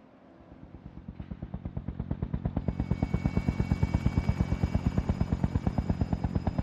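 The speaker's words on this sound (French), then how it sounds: "Hélico en approche pour la collecte d'argent." Helicopter in the video game Call of Duty: Modern Warfare approaching, its rotor chop a steady rapid thumping pulse that grows louder and closer over several seconds, with no talk.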